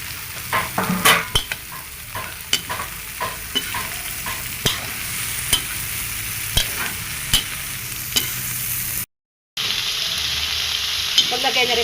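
Sweet potato, jicama, beans, chayote and carrot being stir-fried for vegetable spring rolls, a steady sizzle broken by repeated clattering scrapes of a spatula, close and loud, with a brief cut near the end.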